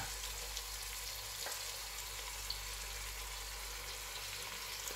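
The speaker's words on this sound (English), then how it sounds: "I'll be stirring and adding my shock of pepper and my shock of prawn." Fried rice with pepper and prawns is stirred in a pan, giving a steady, soft sizzle with faint scrapes now and then and no talking.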